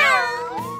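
Cartoon kittens meow in a short, bright, high cry that rises then slides lower, close and clear, with no talk over it.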